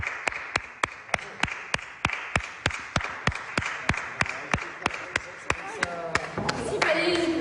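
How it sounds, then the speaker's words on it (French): A single person claps steadily and evenly during theatre curtain calls, about three claps per second, close and loud over a muffled room hum, before the clapping stops and scraping noise with a voice takes over. "Je vais applaudir comme une bête."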